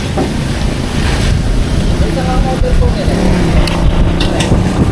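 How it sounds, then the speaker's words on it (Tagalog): Strong wind buffets the microphone while riding a motorcycle, a steady, loud roar with low rumbling gusts, water and engine noise underneath. "Ano, lakas ng hangin."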